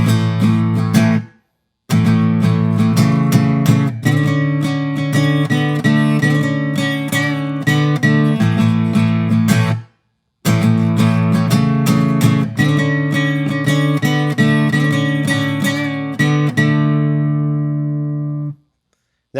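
Guitar riff, picked single notes in a steady repeating phrase, clear and close with two brief pauses, no voices.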